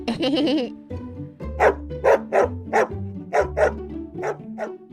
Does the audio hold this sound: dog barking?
yes